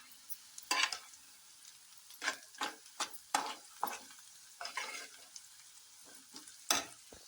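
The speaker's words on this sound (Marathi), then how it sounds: "त्यामध्ये आता अर्धा चमचा हळद टाकूया. ते सुद्धा छान मिक्स करून घेऊया." Turmeric being stirred into onions frying in oil in a pan, heard as a series of short, fairly close scraping stirs over a soft, steady sizzle, with no talking.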